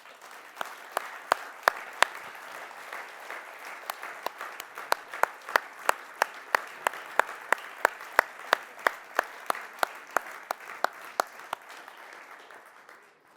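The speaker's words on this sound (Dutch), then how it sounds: "dat iedereen daar ook eens een heel warm applaus voor geeft." A hall audience at a tenth-anniversary gathering gives sustained warm applause, with sharp individual claps standing out over a steady bed of clapping that fades near the end.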